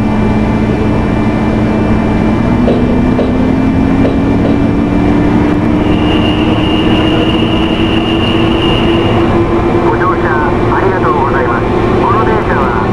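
A video game train on the Tokaido Line pulls away from Koshienguchi with a rising electric motor whine over steady rumbling, a brief tone sounding midway, under a voice speaking.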